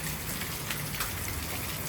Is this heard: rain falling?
yes